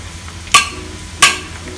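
Homemade egg tofu fries in hot oil under a low, steady sizzle, with two sharp bright splattering bursts as pieces are flipped; close and fairly loud, with no talking.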